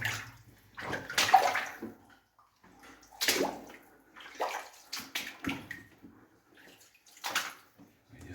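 Wading through murky water in a flooded New Zealand gold mine, with intermittent sloshing and splashing bursts of each step, fairly close and quiet, no talking.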